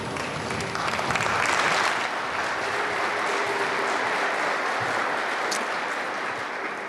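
A large audience applauds at a December 2021 commencement ceremony, dense continuous clapping filling the hall for several seconds, loud and even with a slight swell near the start.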